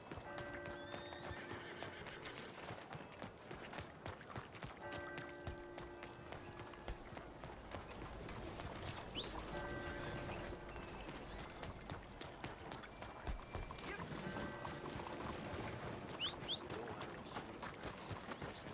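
A horse gallops in the video game Red Dead Redemption 2, its hooves pounding in a steady fast rhythm throughout, with repeated neighs and whinnies over the hoofbeats.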